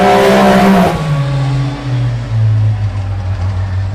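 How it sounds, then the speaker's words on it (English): A Can-Am X3 side-by-side racing in an SGORA off-road race, engine loud and close at first, then dropping into a steady droning pull as it accelerates away. "number 623, Jeff Brennan, getting faster and faster into the"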